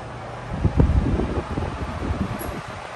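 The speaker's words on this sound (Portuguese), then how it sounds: "Aqui é ventilador. Vou ligar para vocês verem aqui que funciona." Electric fan in a budget guesthouse room in Botafogo, Rio de Janeiro, switched on and running with a soft, steady whooshing hum after a brief low thump, faint and close.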